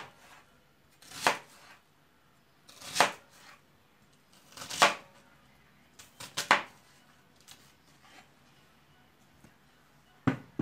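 A knife coarsely chops beef fat for Kayseri pöç kebab, giving about six sharp, separate chops spaced a second or two apart, close and fairly quiet.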